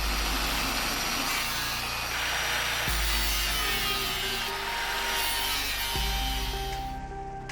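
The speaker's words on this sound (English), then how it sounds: "the grid's actually made of thin steel, so I'm using the angle grinder here to cut the shape that I need" An angle grinder cuts a thin steel grid for the base of an android sculpture, giving a loud, continuous whining grind with a steady rough rasp and brief shifts in pitch as the cut goes on.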